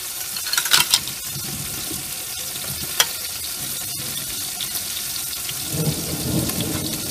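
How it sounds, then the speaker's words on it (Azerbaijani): Rain begins outdoors with thunder, a steady hiss broken by sharp cracks and a low rumble building toward the end, with no voices. "Yağış başladı"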